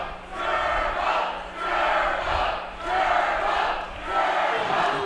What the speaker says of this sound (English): The crowd is mispronouncing Chewy's name again. They're saying Turbo.